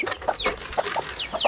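Several chickens cluck and squawk in short, repeated bursts close by while feed is handed out in a backyard flock, with sharp calls coming every fraction of a second and no voices over them.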